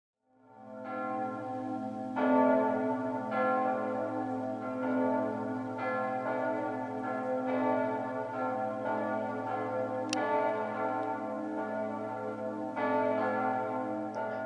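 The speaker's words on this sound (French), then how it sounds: "il donna une cloche à la cathédrale, que l'on peut voir encore en haut de la tour nord" A cathedral bell in Bourges rings steadily and loudly, its rich overtones sustaining throughout with repeated strikes layered over a continuous hum, no voices present.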